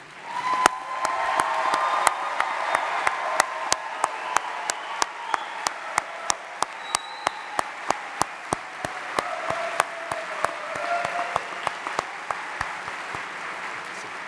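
A commencement crowd at Baldwin Wallace University applauds and cheers graduates in sustained, dense clapping, with a few sharp, close claps snapping out regularly above the broad roar.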